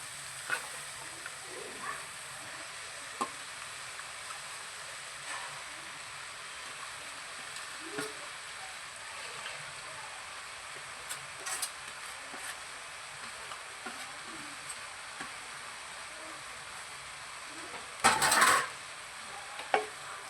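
Spinach sizzling faintly in a pan with tomato, onion and fenugreek greens, a soft continuous hiss broken by scattered light scrapes and taps of stirring, plus one louder clatter near the end.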